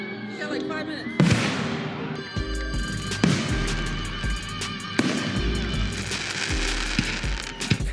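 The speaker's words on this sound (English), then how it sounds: "I missed a couple of those first fireworks that went off" Fireworks burst outdoors in several loud cracks and booms, each followed by crackling, fizzing tails and a low rumble, with voices audible between the blasts.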